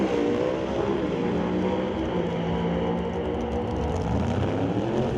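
A couple of Firebird drag racing cars making a run at a doorslammers race, heard as a steady, loud, distant engine roar that holds evenly throughout with no talk.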